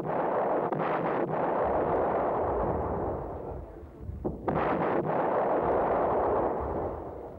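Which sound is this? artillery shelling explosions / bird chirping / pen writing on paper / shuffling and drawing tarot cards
artillery shelling explosions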